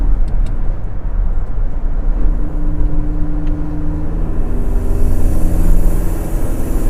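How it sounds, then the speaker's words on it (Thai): A Toyota Revo pickup truck's engine rumbles steadily up close, a low droning exhaust note with a slight rising pitch toward the end. "มีเสียงท่อนิดๆนะฮะกับตัวพัดบูธนะครับผมนะฮะ"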